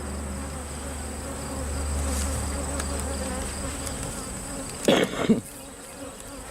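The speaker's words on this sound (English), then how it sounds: "look how many bees are in this box." Honey bees buzz in a dense, continuous drone from an open hive box close at hand, with a brief louder burst of nearby buzzing and a short spoken word.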